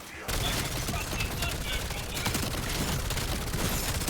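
Dense automatic gunfire rattles nonstop in a zombie-wave video game, with rapid shots layered over the game's mix at a loud, close level for the whole stretch after a brief quiet start.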